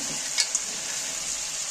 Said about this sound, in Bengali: নাড়তে নাড়তে এইবার আমি ভাজা আলুগুলো এর মধ্যে ফের তুলে দিচ্ছি